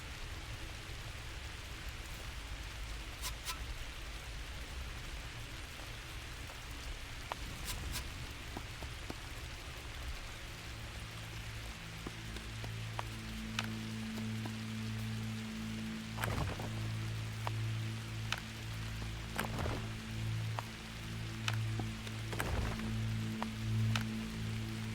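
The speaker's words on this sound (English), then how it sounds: "The rain shows no sign of ending." Steady rain pours down in the survival strategy game The Tribe Must Survive, a dense, even hiss with scattered sharper drops, joined later by a soft low rhythmic hum beneath it.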